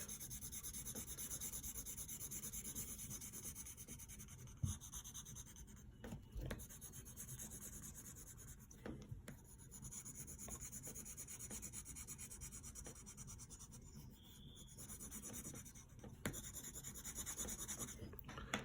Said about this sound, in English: we take the side of our pencil and fill it in black